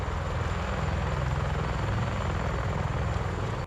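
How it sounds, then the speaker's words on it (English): A CH-53E Super Stallion heavy helicopter roars steadily at close range, its rotor and engine noise forming one loud, unbroken wash that runs the whole way through, with no voices. "Landing a massive helicopter on a moving deck is unforgiving."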